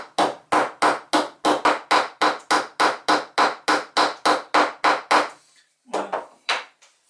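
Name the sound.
crushing the end of a bamboo piece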